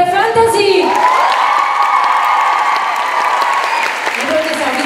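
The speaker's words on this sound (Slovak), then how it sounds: "Ešte raz potlesk pre Fantasy!" Audience at a K-pop showcase claps and cheers loudly with whoops and shouts, while an amplified voice carries over the crowd and swells through the middle.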